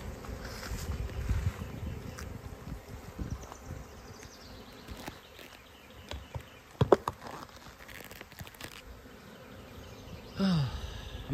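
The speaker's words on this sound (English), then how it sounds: "Lots of bees. Good swarm. I knew that was a big swarm." A honeybee swarm being shaken into a box gives a faint, steady insect buzz that runs low and continuous through the whole stretch, with a few short bumps and knocks near the end.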